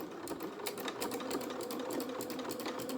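A sewing machine top-stitches a pair of small doll-sized dungarees, its needle chattering in a quick, even rhythm with brief pulses, close and steady for a few seconds.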